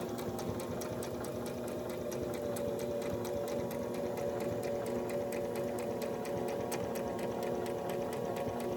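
A sewing machine stitching a patch onto stretchy pants runs continuously at steady speed, a fast even mechanical whir with rapid needle clatter, fairly quiet and close, without talk.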